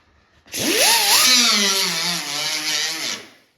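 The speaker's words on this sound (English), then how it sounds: "So I have a piece of 36 grit on my angle grinder here." An angle grinder with a 36 grit disc spins up and grinds a Lamborghini bumper during repair, a loud close whine that rises sharply, holds with a rough abrasive rasp, then winds down.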